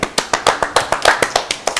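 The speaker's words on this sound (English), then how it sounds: "All right, round of applause." A small group claps in a quick, even rhythm, each crisp clap close and distinct, across a brief burst at a television interview with ice dancers.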